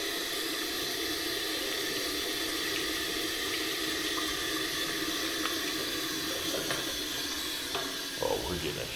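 Water pours steadily from a coin-operated campground shower tap, a loud, even rushing hiss close by that continues throughout, with a few faint knocks near the end.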